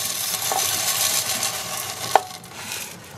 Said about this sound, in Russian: Мультиварку я подготовила и хочу сюда сейчас отправить вермишель прижариться.